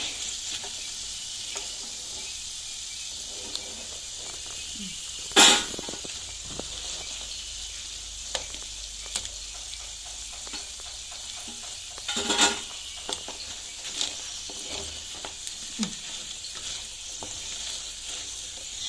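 Cauliflower pieces deep frying in oil for gobi manchurian, a steady dense sizzle and bubbling throughout, with occasional louder clanks and scrapes of a ladle against the pan.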